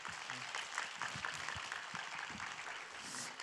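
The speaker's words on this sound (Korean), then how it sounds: "여러분 큰 박수로 환영하며 우리 앞으로 모시겠습니다" A church youth-group audience applauds to welcome a seminar speaker to the front, a steady wash of many hands clapping at even loudness throughout, with no talk over it.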